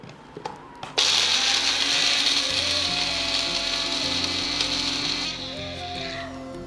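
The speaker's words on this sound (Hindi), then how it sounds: "बंद करने के बाद अब हम इसको करते हैं ग्राइंड।" An electric spice grinder runs loud and steady for about four seconds, whirring and rattling as it grinds whole spices, including a small piece of nutmeg, into qorma masala, then winds down at the end.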